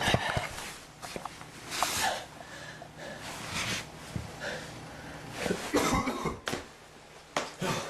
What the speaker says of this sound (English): These are bad coughs